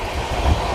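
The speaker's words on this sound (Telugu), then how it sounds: "2వ నెంబర్ ప్లాట్ఫామ్కి వచ్చింది మన ట్రైన్." Passenger train from Visakhapatnam to Araku rolls into platform 2 at a station, a loud, close rumble with a low thud of wheels over rail joints, brief and steady.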